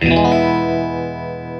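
Electric guitar played through a Fender Princeton amp, a single loud sustained chord ringing out with rich harmonics and slowly fading, heard alone without talk.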